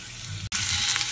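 Chopped onion sizzles as it fries in a hot pan, a steady broadband crackle interrupted by a split-second gap before resuming, close and fairly loud with no voices.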